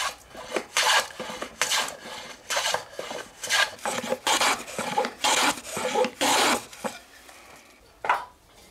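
Rhythmic rasping strokes, about a dozen in quick succession, as a traditional cooper's hand plane shaves across wood, close and fairly loud with short pauses between passes.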